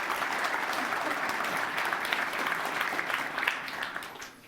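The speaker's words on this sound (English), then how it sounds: "Another round of applause." Applause from a conference audience at a Google test automation event: a steady wash of many hands clapping at moderate level, holding evenly before tapering off slightly at the end.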